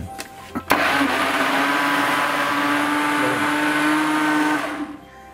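An electric food processor whirs loudly and steadily for about four seconds while chopping potatoes, carrots and onions, starting abruptly after a couple of clicks and then cutting off and fading.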